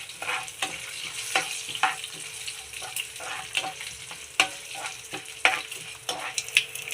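Garlic frying in a pan as it is stirred, with a soft steady sizzle and crisp scrapes and clicks of the spoon against the metal at irregular intervals, close and moderately loud.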